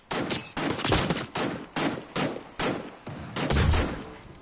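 DMR rifle shots in the Fortnite battle royale game, a sequence of sharp, loud single cracks fired in a steady rhythm, about eight shots in quick succession with short gaps between them.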